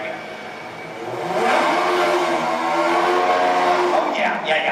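A remote-control stunt car's motor revs at the Lights, Motors, Action! Extreme Stunt Show at Walt Disney World, its whine climbing and holding loud and steady against crowd noise, with voices in the background.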